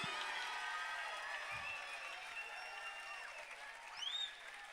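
Audience applause with cheering at the end of a solo concert at a campsite evening show in Gagnières, steady dense clapping throughout with a brief swell of cheers near the end, no talk.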